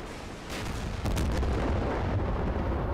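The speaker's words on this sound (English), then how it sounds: "Oh, ATGM away." An anti-tank guided missile launches in the Combat Mission: Cold War wargame as a heavy, rising roar that swells twice in quick succession, then holds as a loud, rumbling rush.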